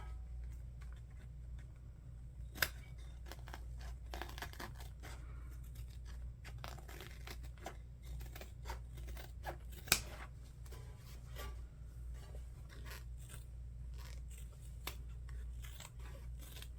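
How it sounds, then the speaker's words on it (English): Scissors trimming the fabric lining of a sewn crossbody bag, heard as a steady run of soft, quiet snips and cutting scrapes, with a couple of sharper clicks, close up and alone. "Trimming this lining nice and tight will help it fit really well on the inside"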